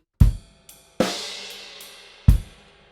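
A drum kit plays a short shuffle bar, with sharp bass drum and snare hits and a ringing crash cymbal that decays between strikes.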